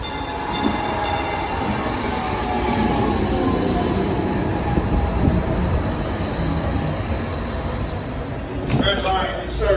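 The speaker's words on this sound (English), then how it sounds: "Time to get back on the train." A light rail train rumbles steadily along the rails with a persistent metallic whine and occasional squeals, loud and close, as if heard from inside a car.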